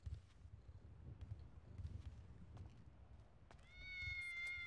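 A cat meowing inside a house, a single drawn-out meow arriving near the end after a stretch of low rumbling background noise, fairly clear and close.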